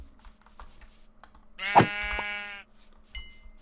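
A sheep bleats once in modded Minecraft, a clear, loud, wavering bleat lasting about a second, with a faint higher chime after it over quiet game ambience.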